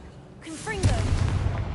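A short Confringo spell blast from the Hogwarts Mystery video game: a brief rising magical chirp bursts into a heavy booming impact that rumbles on, with a voice briefly heard.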